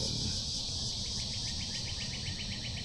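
Insects chirr in a rapid, regular pulsing train high above a low background hum, steady and moderately distant throughout the short stretch with no talking.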